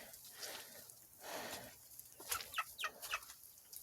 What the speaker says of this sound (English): the chickens are all happy